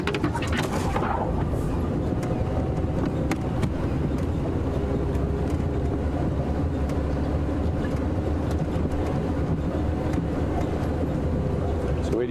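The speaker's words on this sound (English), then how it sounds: "It's difficult to hear over the car engine." A safari vehicle's engine drones steadily and loudly throughout, a continuous low rumble that fills the background while people talk faintly over it.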